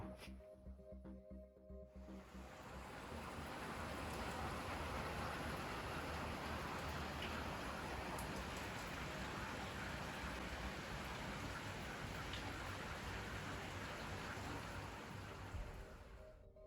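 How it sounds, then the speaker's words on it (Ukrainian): Steady rain falls outdoors, starting quieter and quickly building to a dense, continuous patter on surfaces that holds evenly until the end, with no voices. "півдня, як завжди, дощі"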